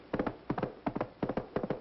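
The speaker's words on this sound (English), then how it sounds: "Now we have the horse's hoofs." Horse hooves clip-clopping as a sound effect, in close, even groups of three beats repeating steadily with no talk over them.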